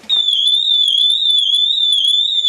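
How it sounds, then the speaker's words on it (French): A home security alarm goes off with a loud, continuous high-pitched siren tone that warbles slightly and holds steady throughout, with no other sounds. "Elle marche bien l'alarme."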